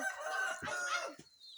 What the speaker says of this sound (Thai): ตอนนี้โตเป็นหนุ่มขันได้แล้วครับ